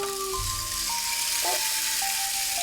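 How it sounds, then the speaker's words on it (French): Small beads cascading inside a children's distraction toy during a pediatric hospital consultation, a steady soft hissing rattle throughout, with faint electronic tones beeping in the background. "il va surtout être attiré par le bruit et regarder les billes tomber"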